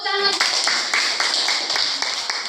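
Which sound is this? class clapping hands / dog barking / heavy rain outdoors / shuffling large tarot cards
class clapping hands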